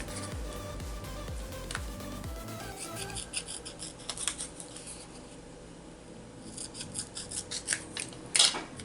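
Scissors cutting straight across the cardboard sleeve of a Starbucks cup, close and quiet, with repeated crisp snips and rasping cuts that grow sharper toward the end.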